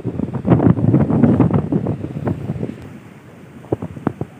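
Strong ocean waves at high tide crash near the shore in November–December, a cluster of loud, churning surges with wind buffeting the microphone, easing into quieter washes before a few sharper splashes at the end.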